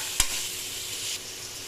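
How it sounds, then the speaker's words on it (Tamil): Vegetables sautéing in a pan for vegetable biryani give a steady, near, moderately loud sizzle throughout, with one sharp scraping stir stroke early on and no voices. "நல்லா ஒரு 5 நிமிஷம் நல்லா வதக்கிங்க."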